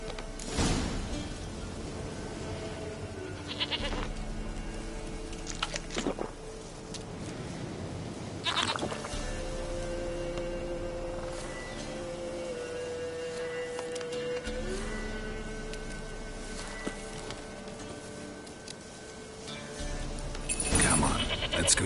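A goat in The Witcher 3 bleats in several calls between stretches of game music and ambient sound, fairly close and moderately loud.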